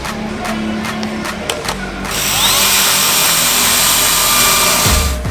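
A power sanding pad works a grain truck's plastic headlight lens: rapid clicking tool ticks first, then a loud, steady whirring grind for several seconds before it winds down, with no talk.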